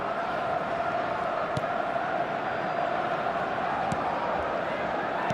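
A football crowd roars steadily after a shot on goal, a sustained wash of cheering and chanting with a few thuds, while a commentator talks over it.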